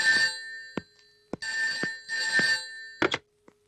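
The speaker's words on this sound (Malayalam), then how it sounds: "ഫോൺ." A telephone bell rings in several short bursts with brief gaps between them, loud and close, with no talking over it.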